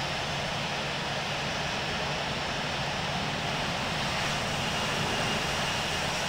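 Airliner taxiing to parking at San Francisco airport in the Infinite Flight simulator, a Delta 747-400, giving a steady, loud broadband engine roar that holds constant throughout with no talking.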